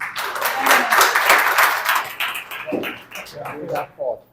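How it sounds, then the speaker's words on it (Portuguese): A crowd at an installation ceremony for a cultural institute's new board claps and cheers briefly, the applause swelling then fading within a few seconds, with voices mixed in underneath. "Um aplauso para todos nós."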